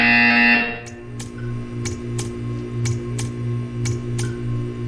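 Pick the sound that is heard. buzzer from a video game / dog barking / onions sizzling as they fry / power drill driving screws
buzzer from a video game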